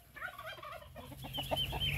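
Farm chickens clucking and calling close by, a short burst of several quick clucks followed by softer scattered calls, with no talking.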